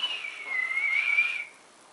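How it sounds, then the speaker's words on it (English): A zookeeper whistles a single sustained, slightly wavering tone for about a second and a half, clear and close, then it cuts off into quiet. "I hear a zookeeper whistling in my ear."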